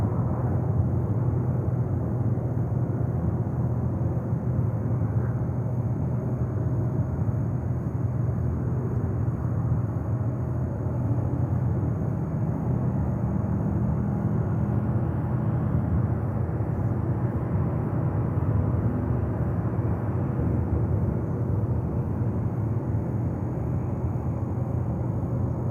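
An Air China cargo plane arriving at JFK airport, heard as a steady, broad jet rumble at middle distance that holds evenly throughout with no talk.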